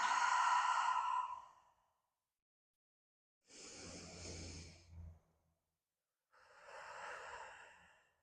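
Slow audible breaths during a guided joint-freeing breathing exercise, three long airy exhales and inhales separated by silent pauses, close and alone.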